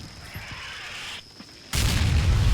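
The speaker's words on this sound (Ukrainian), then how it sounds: "Ще би один постріл зробити." A single loud, broad cannon blast in the war game Combat Mission: Shock Force 2 hits near the end, followed by sustained heavy rumble, after a quieter stretch with a few soft thuds.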